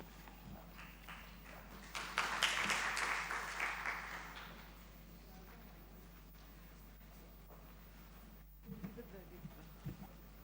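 Audience applause at a Godrej Consumer Products investor meet in 2024: a short burst of moderate clapping rises after a quiet start, fades over a couple of seconds, then leaves low room noise with a few faint taps.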